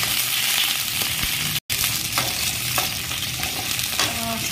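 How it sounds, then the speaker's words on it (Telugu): Cut brinjal pieces frying in oil on a stove, a continuous bright sizzle with soft stirring scrapes throughout and a brief dropout partway, no voices. "మనం ఆల్రెడీ కట్ చేసి పెట్టుకున్నటువంటి వంకాయల్ని ఈ ఆయిల్ లో మనం ఫ్రై చేసి పెట్టుకోవాలి"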